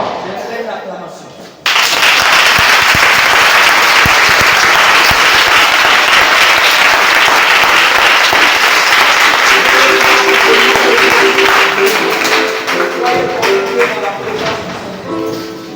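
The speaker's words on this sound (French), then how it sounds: "J'aimerais une acclamation." A church congregation bursts into loud, sustained applause and cheering after a brief quiet opening, clapping densely for over ten seconds, then fading slightly as voices and a musical tone emerge near the end.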